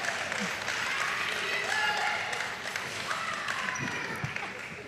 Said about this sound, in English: A gigantic round of applause for Jedden, scoring a point in the playoff